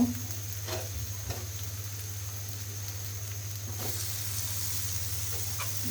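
Tomatoes with ground spices such as coriander powder sizzle steadily in a pan, with a constant low hum underneath and a few faint utensil taps.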